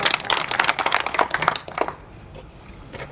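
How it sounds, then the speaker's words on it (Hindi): Audience applause at a Hindu havan and puja held in memory of a revered saint: a dense burst of many hands clapping for about two seconds, then fading quickly into quiet room tone. "ताली बजाओ अपने।"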